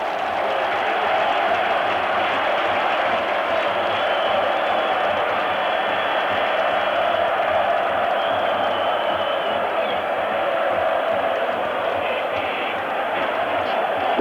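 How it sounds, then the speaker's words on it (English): Huge football stadium crowd at a European Cup match between Roma and Dundee United, roaring in a constant, loud, wall-like wash that barely wavers, with a commentator's voice faint beneath it. "It's going to be difficult to hear the last 3 minutes with the sound of this crowd."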